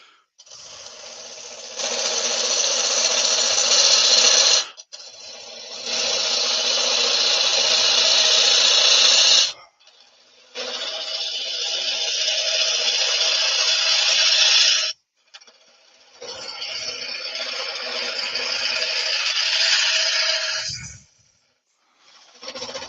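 A woodturning lathe hollows out a wooden pot pourri bowl. Four long bursts of loud, rasping cutting noise are separated by short pauses, with the spinning wood sounding close.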